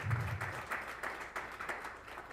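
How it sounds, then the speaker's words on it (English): Audience applause at a talk on ending poverty, faith and leadership, a soft, fairly distant patter of many hands with uneven bursts, no talk over it. "Let's give these guys a big round of applause."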